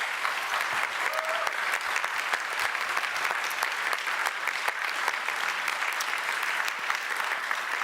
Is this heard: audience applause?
yes